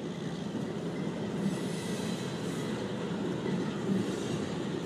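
A BNSF-led freight train rolls in with a steady rumble and faint clatter of wheels on rails, heard from a distance with no talk.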